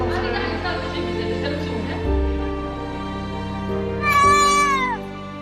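A cat with a broken leg at an animal hospital meows over steady background music, with one rising, drawn-out meow standing out near the end.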